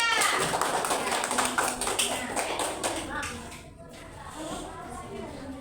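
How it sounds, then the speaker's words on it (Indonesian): A class of young pupils claps for group 3 during an Islamic prayer lesson, a quick flurry of hand claps mixed with chatter and shuffling that thins out toward the end. "Tepuk tangan untuk kelompok 3"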